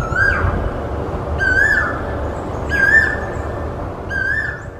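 A cuckoo (koel) sings at night from a tree branch: four clear, rising whistled calls spaced evenly about a second apart over a low, steady background rumble, with no voices.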